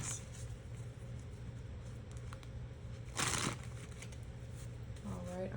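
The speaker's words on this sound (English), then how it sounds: "I'm trying not to shuffle on this hard wood because it's so loud." Tarot cards are riffled in a brief, crisp burst against a hardwood surface, close up, over a steady low background hum.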